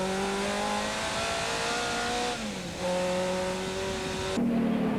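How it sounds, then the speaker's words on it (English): TVR Tuscan race cars from a 1995 race series roaring around a circuit, engines holding high revs with a brief lift and gear change before rising again, loud and close. "And Kent using that car, using all the road, but really driving very, very smoothly."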